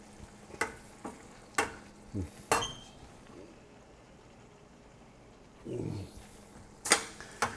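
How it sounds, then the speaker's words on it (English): Shrimp fry in a pan, giving a soft sizzle under sharp utensil clinks and scrapes against the cookware, with a low stirring rumble partway through. "let me throw the shrimp in"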